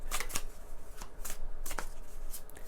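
Tarot cards are shuffled by hand, held loosely and let drop, giving a run of close, crisp riffling bursts at an uneven rhythm over a soft hiss.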